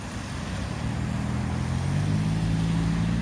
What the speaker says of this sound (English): Now we've got a loud exhaust.